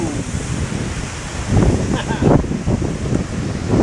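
The Clutha River in flood rushes past in a broad, roaring wash of water, heavy with wind buffeting the microphone, with a person speaking partway through.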